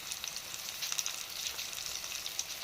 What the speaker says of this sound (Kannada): ಈಗ ಆಲೂಗಡ್ಡೆ ಒಂದು ಸ್ವಲ್ಪ ಎಣ್ಣೆ ಒಳಗೆ ಫ್ರೈ ಮಾಡ್ಕೊಳ್ಳಿ